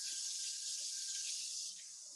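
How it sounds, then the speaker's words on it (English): Water runs steadily from a kitchen tap as hands are rinsed under it, a bright continuous hiss and splash that eases slightly toward the end. "Wash my hands."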